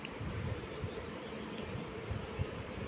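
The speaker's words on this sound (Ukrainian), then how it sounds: "Бджоли отак працюють" Honeybees working at a beehive, a continuous low buzzing drone with soft fluctuating hum, close and steady, with no voices.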